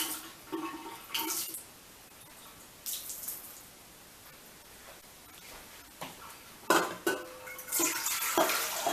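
Warm water is poured into a bowl for making Italian sub rolls, heard as several short splashing bursts and a longer pour near the end against a quiet kitchen background.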